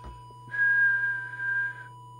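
A steady whistled tone lasting over a second goes through a CRT 2000 CB radio for a transmit test, heard clearly over a constant low electrical hum.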